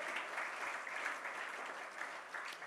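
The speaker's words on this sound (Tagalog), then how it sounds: "Yung the best na palakpak naman sa ating Panginoon." A church congregation claps for the Lord in steady, dense applause that fills the room without a break, with no voices rising above it.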